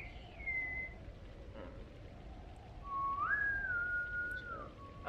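A person whistles a few wavering, sliding notes, thin and slightly shaky, with pauses between short phrases over quiet room noise.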